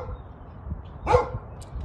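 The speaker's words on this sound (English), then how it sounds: "Quit barking." A pet dog barks once at close range in a quiet home setting, a short sharp bark over low background noise.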